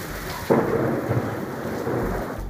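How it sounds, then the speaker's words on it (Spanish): Deep thunder rumbles through a torrential night rainstorm in Ayacucho, with heavy rain hissing steadily and a sharper roll of thunder breaking in near the half-second mark. "toda una ciudad alerta ante el retumbante sonido de los truenos"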